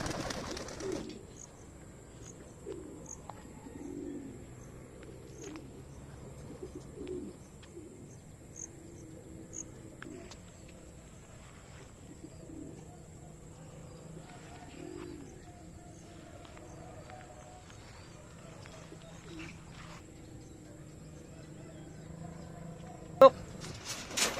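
Pigeons coo softly at intervals during winter flight training. The low calls repeat under faint outdoor background noise, with a sharp thump near the end.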